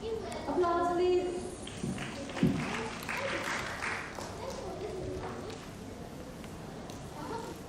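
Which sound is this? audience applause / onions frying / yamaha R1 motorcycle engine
audience applause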